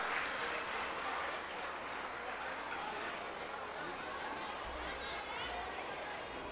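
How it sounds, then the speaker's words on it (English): An audience at a school annual day prize distribution claps in a steady, fairly faint wash of applause with some scattered hall noise. "Give a round of applause for Mariam Manyar."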